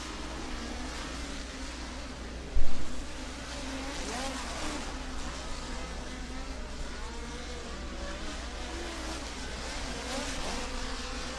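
Midget race cars circulate at Valley Speedway, a steady droning whine of engines carrying across the track with one brief louder burst, under intermittent commentary.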